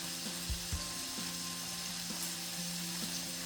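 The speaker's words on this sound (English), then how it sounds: "And just stir it round so that all of the garlic, mustard seeds get mixed in." Garlic and mustard seeds fry in oil in a pan for Gujarati green beans, a steady close sizzle with a few light utensil knocks and faint spluttering, no voices.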